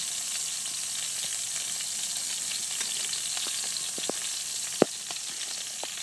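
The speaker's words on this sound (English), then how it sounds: "I'm going to step back a little bit because that oil is starting to pop" Salmon sizzles in hot oil inside a wood-fired brick pizza oven, a steady close frying hiss with scattered sharp pops of spitting oil, one louder crack standing out near the end.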